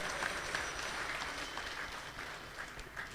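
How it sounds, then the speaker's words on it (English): A gathering at a Sunday love feast applauds to welcome a speaker, a steady, moderately distant patter of clapping sustained without talk. "Let's give him a round of applause."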